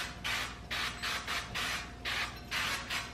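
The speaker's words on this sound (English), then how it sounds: "We're using a spray avocado oil." Avocado oil cooking spray hissing onto cake pans in bursts, about seven short close sprays separated by brief pauses.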